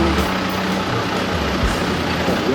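Komatsu excavator engine rumbling loudly and steadily up close as it lifts its wheels, a heavy low drone with a few hydraulic shifts and no speech.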